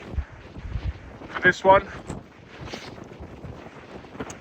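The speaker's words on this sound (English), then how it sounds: "It's a little bit windy" Wind gusts buffet the microphone at a beach, a low rumbling roar with a few stronger bursts near the middle, while a voice speaks briefly over it.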